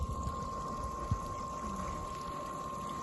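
A main motor pump on a farm drives water out to drip irrigation, a steady hum with a sustained tone running throughout, accompanied by a low watery churn and a single brief knock.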